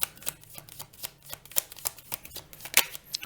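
Tarot cards shuffled and drawn during a Taurus tarot reading, giving rapid, close riffling ticks and flicks that pulse irregularly with a few sharper snaps.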